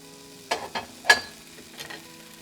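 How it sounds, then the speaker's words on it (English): Bacon strips drop into a hot pan, bringing a few sharp crackling bursts followed by a soft, low sizzle, heard close and alone. "So now that this is warmed up, our bacon is going into the pan."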